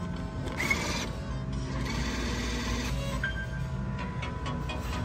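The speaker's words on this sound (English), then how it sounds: "Machine eat the dollar." A vending machine bill acceptor draws in a one-dollar bill with a steady mechanical whirring and clicking motor sound, close and continuous over a low background hum, with no voices.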